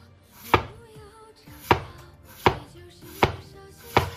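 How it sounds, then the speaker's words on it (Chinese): Small potatoes sliced thin with a knife on a board: five sharp, evenly spaced chops, close and distinct, with quiet pauses between. "全部都给它切成像这样薄薄的厚片就行"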